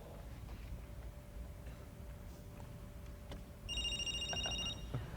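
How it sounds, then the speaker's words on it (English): A mobile phone rings for an incoming call dialed over Bluetooth at a Macworld New York keynote, with a repeating electronic ringtone pattern starting partway through over steady room hum. "and my phone should be calling Phil."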